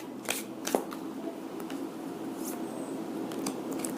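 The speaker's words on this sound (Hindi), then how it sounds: "चलिए एक और कार्ड हम लेंगे इस डिक से" A card drawn from a tarot deck, giving soft papery flicks and slides with a couple of crisp snaps early on, faint and close in a quiet room.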